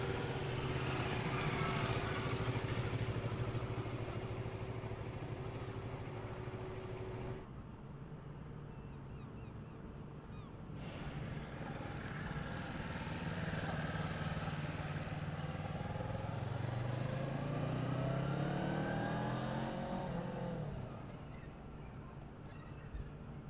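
A Kawasaki motorcycle ridden during a bike test, its engine note rising and falling with revs and gear changes, heard at moderate distance amid wind and road noise, with brief quieter stretches.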